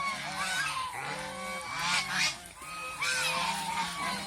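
Geese on a commercial goose farm honk loudly and repeatedly close by, several birds overlapping in a continuous noisy chorus with no talk.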